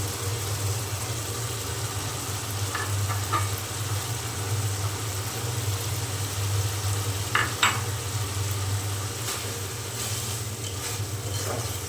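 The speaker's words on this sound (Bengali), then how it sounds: "তেল ছেড়ে দিয়েছে এখন আমি এতে চিংড়ি মাছ দিয়ে দিলাম" Shrimp sizzle and fry in spiced oil in a pan, a steady close crackle with a few brief scrapes of stirring.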